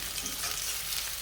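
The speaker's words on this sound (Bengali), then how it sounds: "এখন আমি তেলের ভিতরে পেঁয়াজ দিয়ে দিছি" Onion frying in hot oil gives a steady, close hiss of sizzling with a faint stirring texture throughout.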